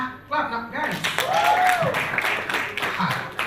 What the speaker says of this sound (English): Clap now, guys.